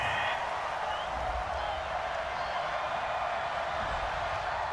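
A stadium crowd in a football video game boos a penalty flag on third down, a steady, sustained roar of many voices that stays even throughout.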